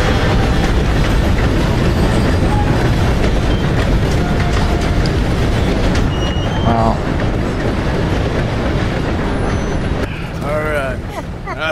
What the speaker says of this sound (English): I hear a train coming.